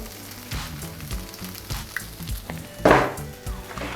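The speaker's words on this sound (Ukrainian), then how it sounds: "Додати до піджарки та обсмажити." Hand-crumbled tofu frying in a pan with sautéed vegetables, giving a steady close sizzle with a few scraping stirs and one louder burst of spatter, no talking.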